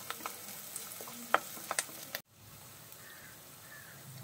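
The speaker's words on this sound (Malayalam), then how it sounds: "സവാള നമ്മൾ നന്നായിട്ട് വഴറ്റിയെടുക്കണം കേട്ടോ" Sliced onions sautéing in a pan give a soft sizzle with a few spatula clicks and scrapes in the first two seconds, a crow calling faintly in the background, then only a quieter muffled hiss.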